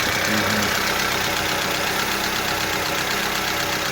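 A Vauxhall Astra mk5 engine idles with a steady rattly, knocking note, close and continuous, with faint low hum beneath and no talk over it.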